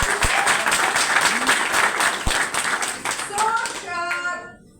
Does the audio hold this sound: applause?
yes